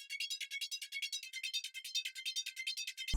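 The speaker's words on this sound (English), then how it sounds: "this is what the SurgeXT sounds like by itself" Surge XT software synthesizer playing solo in a hip-hop beat, a rapid pulsing high-pitched bright tone repeating in quick even bursts for about three seconds, ending with a low thump.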